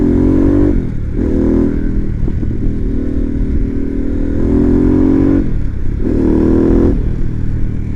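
A Harley-Davidson Pan America motorcycle in sport mode pulls hard with a loud, close engine roar that rises through the gears, dipping briefly at each shift before climbing again, with wind rush throughout.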